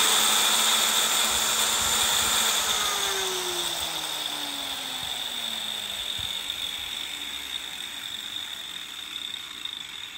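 An electric tile-cutting saw's motor whines steadily with a high, sustained pitch, gradually easing slightly over about ten seconds, with no talking.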